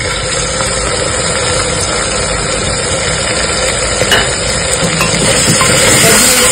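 Onion, tomato and green chili paste is stirred into meat frying for Afghani meat and potato curry, a loud steady sizzle with scraping of the spoon throughout.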